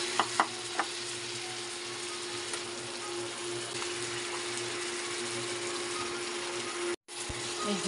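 Pork spare ribs sautéing with garlic and onion in a hot pan, a steady, close sizzle with a few clanks of utensils near the start.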